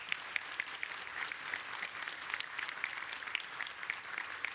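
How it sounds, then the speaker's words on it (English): Conference delegates at a UNISON health conference give a sustained round of applause, dense, even clapping heard from a distance in a large hall, continuing without talk throughout. "Give yourselves a massive round of applause."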